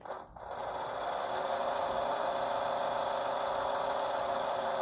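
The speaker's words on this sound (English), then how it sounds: "that's what spins it, and that's coming all the way down to the base, and that's where the gears and the motor is going from" A 1973 Mattel VertiBird Air Police toy helicopter, its base motor and gears spinning the rotor, makes a steady close whirring buzz that starts after a brief click and holds at an even level throughout, with no talking.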